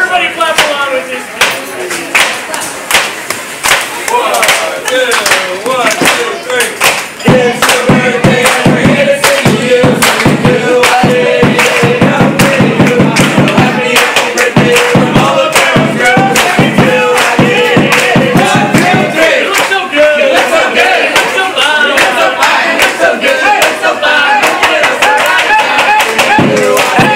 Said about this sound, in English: Everybody clap along with this.